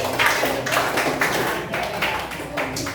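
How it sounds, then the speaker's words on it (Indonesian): A class of students clapping for a group of classmates, a steady patter of many hands that rises and falls over a few seconds, with some talk mixed in. "tepuk tangan sekali lagi"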